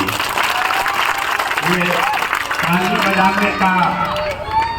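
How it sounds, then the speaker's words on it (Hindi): Political rally audience in a Bihar village clapping in a broad, continuous wash of applause with some crowd noise, while a voice speaks over it. "अपने बदहाली की बात सुनकर ताली बजा रहे।"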